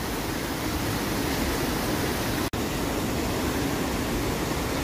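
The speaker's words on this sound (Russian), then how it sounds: "Вот этот красивый водопад, который извергается с этой скалы." The Pystill waterfall in Wales pours off a rock cliff, producing a steady, dense roar of falling water heard close and unbroken, apart from one momentary dropout midway.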